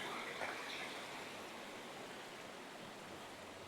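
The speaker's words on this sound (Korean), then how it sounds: "계단을 좀 올려오니까 바로 폭포가 나왔습니다." Nam Dee waterfall near Luang Namtha pours with a constant broadband rushing of falling water, close and steady, with no voices.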